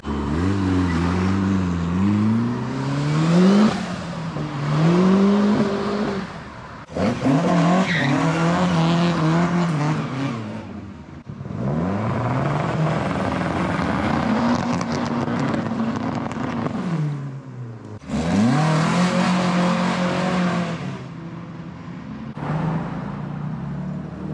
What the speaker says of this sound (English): everyone seems to be firing up their engines and making a move